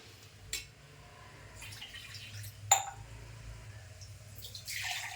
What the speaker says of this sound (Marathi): मी अजून पाणी टाकणार आहे.